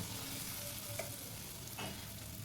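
Malpua batter frying in hot oil for a homemade Bengali sweet, giving a steady close sizzle and bubbling throughout, with a couple of faint higher clinks or stirs over it.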